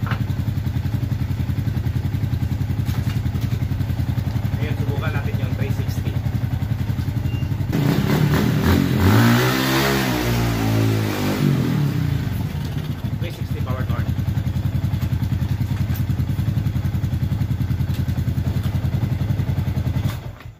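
A Yamaha R15 motorcycle engine idles steadily, then revs up sharply in a rising and falling surge during a power turn before settling back to a rough idle.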